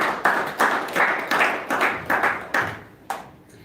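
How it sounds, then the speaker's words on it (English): Applause from an audience welcoming someone speaker at a devotional evening program, a burst of rhythmic group clapping with regular surges that fades out after a few seconds, heard alone without voices. "Let's give her a round of applause"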